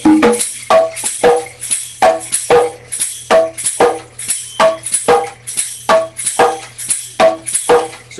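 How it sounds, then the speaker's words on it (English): A high-pitched drum struck in a steady, repeated rhythm, each hit sharp and ringing, with a faint low hum running underneath. "Here's the high drum."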